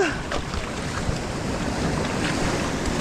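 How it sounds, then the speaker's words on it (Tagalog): High sea waves wash and slap around a small fishing boat off Palawan, with gusty wind buffeting the microphone in a loud, continuous rushing roar and no talk. "Taas ng alon ngayon, ah."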